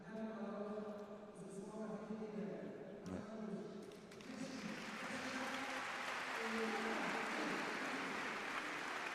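Measured applause from the crowd at a Cesta Punta final rises into steady clapping filling the hall, following a stretch of commentator speech and a single knock.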